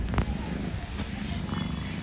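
A cat purring up close, a steady low rumbling throb lasting about two seconds, with faint voices and rustling in the background.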